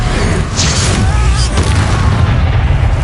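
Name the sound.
Descendo spell slamming enemies in Hogwarts Legacy video game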